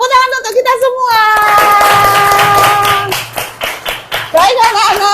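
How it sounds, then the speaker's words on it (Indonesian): A Grade VII classroom of children applauds together: a dense burst of clapping for a couple of seconds, with children's voices and a teacher speaking before and around it. "Tepuk tangan untuk kita semua"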